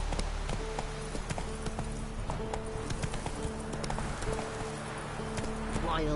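Roach the horse gallops in The Witcher 3, a rapid, steady clip-clop of hooves running at a moderate distance, with a voice talking over it.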